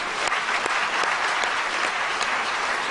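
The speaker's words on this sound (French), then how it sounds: "And thank God with a clap." Audience at a church healing retreat in Lyon applauds in a dense, steady wash of clapping that holds at an even loudness throughout, with no voices standing out.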